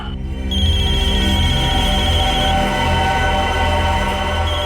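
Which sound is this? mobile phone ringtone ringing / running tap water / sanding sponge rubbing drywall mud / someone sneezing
mobile phone ringtone ringing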